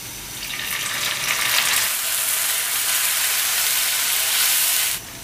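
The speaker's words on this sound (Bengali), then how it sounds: "এখন আমি নুডলসগুলো দিয়ে দিব।" Noodles added to a pan of browned onions, frying in a loud, dense sizzle that holds steady and close for several seconds before cutting off abruptly near the end.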